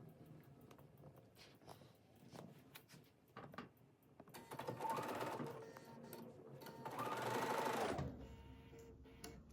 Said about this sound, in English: And then we're ready to sew this together.